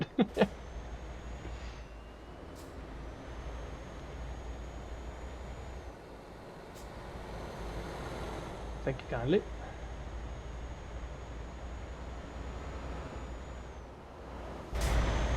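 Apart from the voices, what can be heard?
truck engine in a video game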